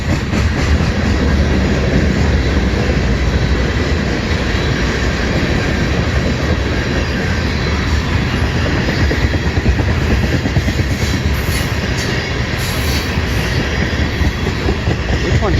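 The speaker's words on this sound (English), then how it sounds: "M383 southbound train." A long CN M383 freight train rolls southbound, starting up slowly, with a steady, loud rumble of rail cars and a rhythmic clickety-clack, plus brief wheel squeals near the end, close to the listener.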